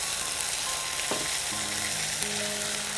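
Onions frying with salt in a pan give a steady, close sizzle and crackle throughout, with a brief clink of a utensil partway, no voices.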